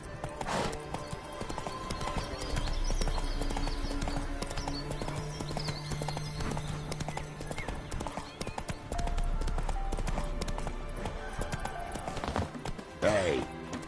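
Horse hooves clip-clop at a gallop in The Witcher 3, a steady rapid rhythm running under music and game ambience, with a brief whinny near the end; no one talks.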